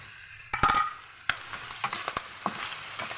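Food stirred in a frying pan, a utensil scraping and clacking against the pan several times over a faint sizzle, with no voices.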